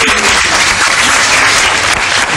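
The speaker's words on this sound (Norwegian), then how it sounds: "Jeg har trykt nu med applaus." Canned applause sound effect triggered from a button, a loud, dense, uninterrupted burst of clapping and crowd noise filling the short moment at full strength.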